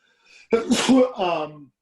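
A single sharp sneeze close to the mic during a fantasy football podcast, with a short intake and then the burst, and voices around it.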